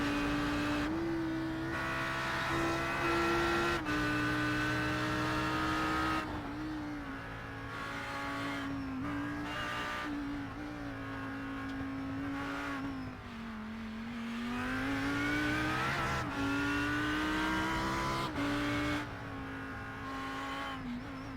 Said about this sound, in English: Hear how much revs he takes throughout this hillside.